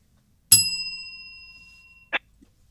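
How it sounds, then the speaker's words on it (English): A single bright bell ding rings out clearly and rings on with a long fading shimmer, followed by a short muted knock, in an otherwise quiet room. "And just ding the bell?"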